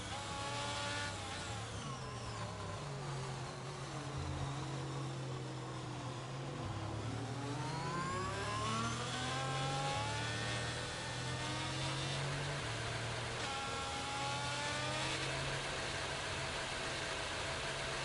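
A safety car in an online racing game drives with its engine note climbing and falling through shifts, a steady mid-pitched drone held at moderate volume for the whole stretch, with no speech.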